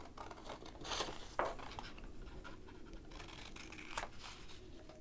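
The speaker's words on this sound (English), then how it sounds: "now we're going to cut a square yellow buckle" Scissors snipping yellow paper for a square buckle on a St. Patrick's Day leprechaun hat craft, quiet close crisp cuts and paper rustling spread across the moment.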